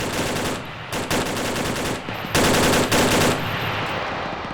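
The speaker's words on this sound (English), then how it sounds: "Definitely some sort of medium machine gun. Either an FN Mag or a 240 Bravo" A scoped medium machine gun, an FN MAG or M240B in a large multiplayer military game, fires several loud, dense bursts separated by short pauses, rapid and close with no talk.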